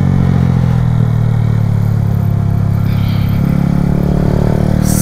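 A Honda Fan 125 motorcycle running at high speed, a loud, steady mid-pitched engine drone mixed with constant wind rush, with no break throughout.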